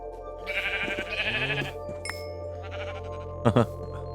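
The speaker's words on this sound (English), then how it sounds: "Okay, sheep." Sheep bleat several times in wavering cries, followed by a short, sharper bleat near the end, over a low steady background hum, in the video game Minecraft.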